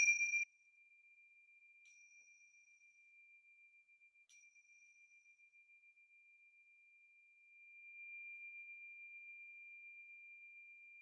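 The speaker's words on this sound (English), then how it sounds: "we'll begin our practice with the sound of the bells" Bells ring at the start of an online yoga practice, thin sustained pure tones sounding faintly, with a few soft strikes, decaying slowly into near silence.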